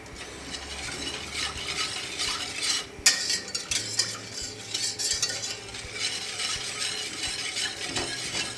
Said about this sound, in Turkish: Biraz karıştıralım.